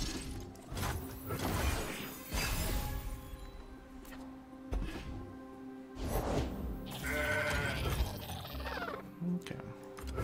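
Goat bleat effects from the Mountain Goat card in the Legends of Runeterra video game, several bleats with crashing and shattering game effects between them, loud and close over layered game sounds.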